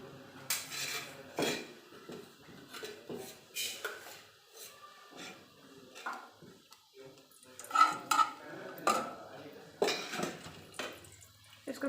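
A metal spoon clinks and scrapes against a pan as ghee is added for an omelette, a series of sharp, irregular close taps and knocks with quiet gaps between.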